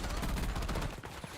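Gunfire in a Call of Duty battle royale match, a rapid burst of dense, muffled shots that fades after a second, low in level.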